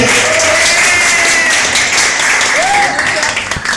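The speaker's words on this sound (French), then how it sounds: "Denis, on peut l'applaudir." A concert audience applauds a band member during the musicians' introductions: loud, dense, sustained clapping filling the whole moment, with a voice speaking over it.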